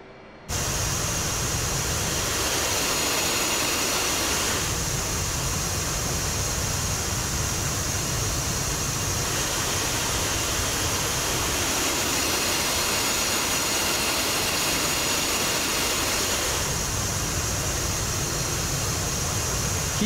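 A video-game F-18 jet engine throttles up during taxi, a loud continuous hissing whine with a steady high tone that pulses slightly as the throttle shifts, with no talk.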